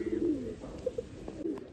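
A fancy Murichundan pigeon coos close by in a few short, soft notes with brief gaps between them.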